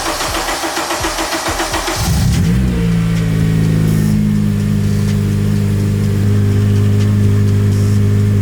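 An Acura TSX CL9 fitted with an RRC Type R intake manifold cranks, fires up about two seconds in and settles into a loud, steady idle with a low, even hum, no talking.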